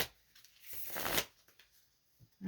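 Tarot cards shuffled by hand in one quick riffling burst that swells and then stops, followed by a few faint taps and handling sounds close by.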